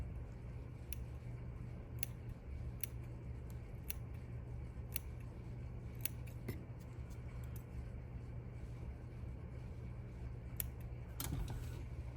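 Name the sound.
scissors trimming mink fur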